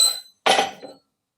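A homemade steel chisel struck while cutting steel gives two sharp metallic clinks, a brief ringing hit followed by a louder, denser strike about half a second later, each decaying quickly into silence.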